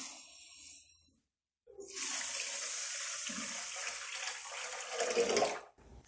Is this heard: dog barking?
no